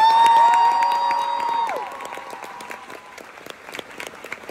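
A concert crowd at La Cartonnerie in Reims cheers and claps for the mandolin and violin player as a held note and whistles fade, leaving scattered, lively applause that rises again at the end.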